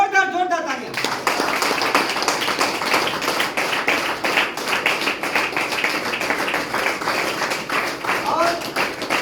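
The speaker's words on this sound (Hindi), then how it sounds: "जोरदार तालियां" A crowd gives loud applause to welcome leaders onto a stage, with dense, sustained clapping that carries through the whole stretch after a brief opening tone.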